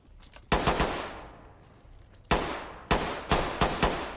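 Gunshots in the tactical shooter Ready or Not: sharp, loud reports, one short burst and then several single shots about half a second apart, each ringing briefly, over a quiet background with no talking.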